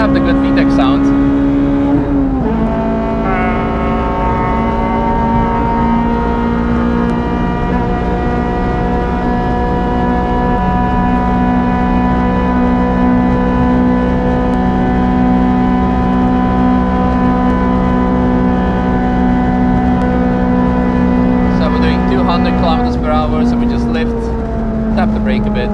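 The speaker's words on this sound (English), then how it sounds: "you can have the good VTEC sound" A Honda Civic FD2 Type R with its VTEC engine howls at high revs on the Nürburgring, a loud, sustained in-car drone that steps through gear changes, with a voice speaking over it.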